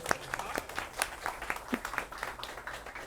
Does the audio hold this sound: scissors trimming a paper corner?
no